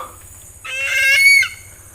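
A single native chicken lets out a short, nasal clucking call close by, rising briefly over a low rumbling background.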